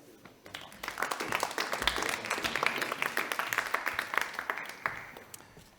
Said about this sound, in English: a round of applause for the winner in the Solving X Wildcard Track, REGENT Craft Incorporated and Adam Triolo